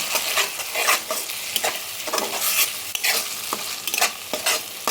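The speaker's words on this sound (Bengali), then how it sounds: "এর মধ্যে দিয়ে দিচ্ছি আমি এক চামচ আদা রসুন বাটা সঙ্গে ভালো করে মিশিয়ে নিচ্ছি" A spoonful of ginger garlic paste is worked into spices frying in a pan on very low heat, with busy scraping stirs over a continuous close sizzle and no talking.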